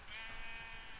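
A sheep in a video game gives a single short bleat, faint and brief.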